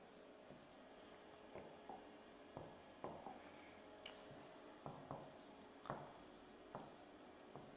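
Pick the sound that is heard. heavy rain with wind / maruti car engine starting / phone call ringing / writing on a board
writing on a board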